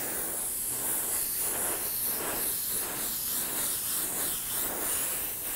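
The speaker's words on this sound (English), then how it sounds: "airbrush works great for this" An airbrush sprays Quicksilver paint onto a Bo-Katan helmet, giving a steady, close, unbroken hiss that pulses slightly and is heard alone without any talking.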